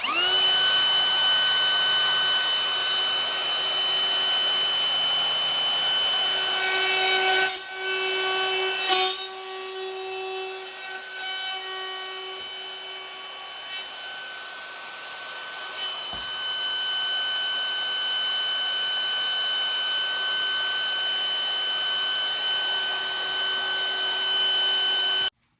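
A battery-powered handheld tool whines steadily as it routs flutes into wood, a loud continuous motor tone that briefly dips and changes pitch partway through before running on.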